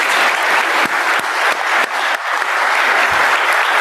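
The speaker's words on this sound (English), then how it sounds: "another round of applause for our panelists tonight" Loud, close applause from an audience for panelists, with dense, continuous clapping and a few sharper individual claps throughout the short burst.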